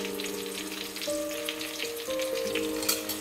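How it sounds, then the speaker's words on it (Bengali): Chopped onion hitting hot oil in a home pan while cooking Bangladeshi bottle gourd with chicken, giving a steady close sizzle and crackle throughout with no talking. "অয়েল দিয়ে দিলাম, গরম হয়ে গেছে। পেঁয়াজটা দিয়ে দিলাম"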